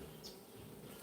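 Honey bees buzz in a continuous faint drone at an opened backyard hive, a steady hum with no voices.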